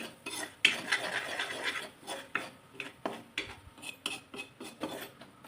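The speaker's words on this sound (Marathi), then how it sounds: "आता या परतून घेते, ढवळून घेते" A spoon stirs and sautés spices with asafoetida in a pan for Maharashtrian alu fadfade, making quiet, irregular scraping and clinking strokes against the metal, close and alone with no voices.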